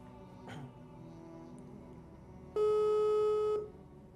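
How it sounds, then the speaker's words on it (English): A telephone busy signal follows a disconnected call, one steady loud tone lasting about a second, heard after a faint clatter in a quiet room. "I think the phone call got disconnected."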